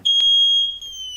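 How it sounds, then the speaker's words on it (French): A Spexor security device lets out a loud, piercing, steady electronic tone, close by and alone, with a brief click near the start. "l'alarme sonore s'est déclenchée"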